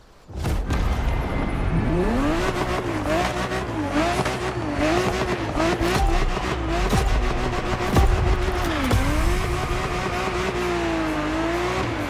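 Ferrari 365 GTB4 Daytona in The Crew Motorfest, its engine revving hard and continuously with gear changes, pitch rising and falling, with brief tire squeals, loud and up close.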